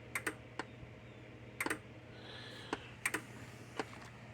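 Sharp, irregular clicks from a Zareba A20M 20-mile solid state electric fence charger on 110–120 volt power, some in quick pairs, crisp and close over a steady low hum.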